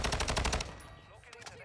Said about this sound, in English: And if you can hear just how quiet the gunshots are,